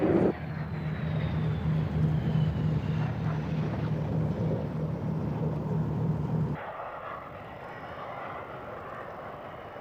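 A military jet lands at the RAF Mildenhall Air Fete 1997 air show. A loud, steady engine roar with a high whine drops suddenly to a softer, distant rumble near the end, and no one speaks.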